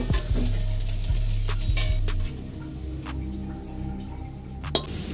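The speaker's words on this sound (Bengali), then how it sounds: "এবার আমরা ডিমগুলোকে ঢেলে নেব।" Beaten eggs hitting a hot pan for prawn chowmein give a loud sizzle, with a low steady hum in the first two seconds, then a softer ongoing fry and a sharp clink near the end.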